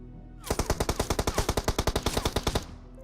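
Automatic gunfire in the BGMI battle royale game sounds as one sustained burst of about twenty evenly spaced, loud, sharp shots lasting around two seconds, then stops abruptly.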